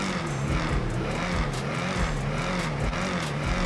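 A car with straight blast pipes in GTA Online roars continuously with a loud, rasping exhaust note close by, the pitch wavering steadily as the throttle pulses.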